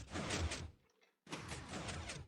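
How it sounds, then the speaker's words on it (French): Blocky mechanical sliding of a Minecraft redstone 3x3 piston door opening, two bursts of grinding movement separated by a short silent gap, loud and close. "Et attention, ouverture de la porte."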